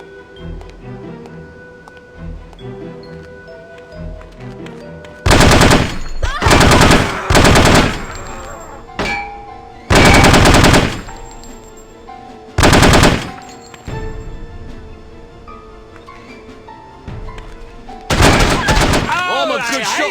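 Gunfire in the PC game No One Lives Forever, loud automatic bursts in several separate volleys over a quieter game backdrop, with voices speaking between them.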